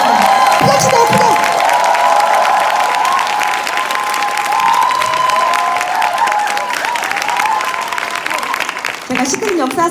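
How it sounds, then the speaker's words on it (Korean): A large seminar audience at a corporate hotel event gives big, sustained applause with scattered cheers, loud and steady for the full stretch, with tonal sounds running underneath. "큰 박수 부탁드립니다."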